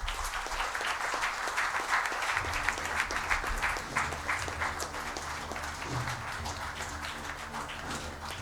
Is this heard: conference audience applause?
yes